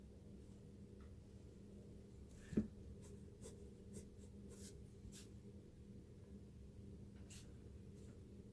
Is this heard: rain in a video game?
no